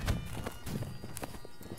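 Horse hooves in Holdfast: Nations At War, a short burst of soft clip-clop steps mixed with faint battle noise, fairly quiet and close.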